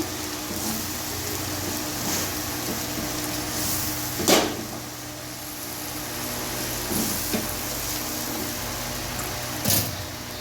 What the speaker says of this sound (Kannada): ಉಪ್ಪು ಹಾಕಿ ತಿರುಗಿಸ್ಕೊಳ್ಳಿ 1-2 ನಿಮಿಷ